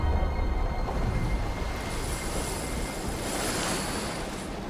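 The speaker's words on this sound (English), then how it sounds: "The endless ocean swirled beneath its shadow, giving way to its bountiful domain." Broad, steady ocean surf in the video game Dive or Die, continuous rolling waves with a windy hiss, fairly loud and constant throughout with no talking.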